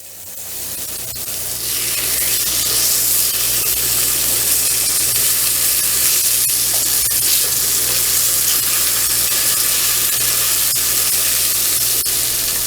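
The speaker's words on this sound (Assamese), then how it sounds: "এতিয়া আমি লাহে লাহে মাছখিনি ধুনীয়াকৈ ভাজি ল'ম।" Fish pieces coated in salt and turmeric frying in hot oil in a wok, a loud, steady sizzle that swells in over the first two seconds and then holds continuously with faint crackles and no voices.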